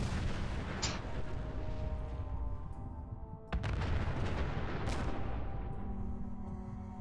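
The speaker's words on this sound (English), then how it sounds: "I want to watch some fireworks." Fireworks bursting in Fallout 4, heavy booming detonations with sharp cracks at irregular intervals, loud and echoing over a rumbling game background with no talk.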